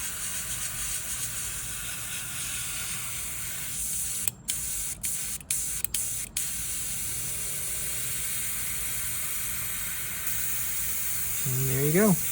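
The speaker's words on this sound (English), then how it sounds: "Notice that's spraying pretty clean." An airbrush sprays alcohol cleanly in a steady, close hiss with a few short clicks and breaks partway through. A brief vocal sound is heard at the very end.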